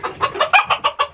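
Rhode Island Red chickens clucking close by in a quick, regular run of short bursts, about seven or eight clucks in a row with no talking.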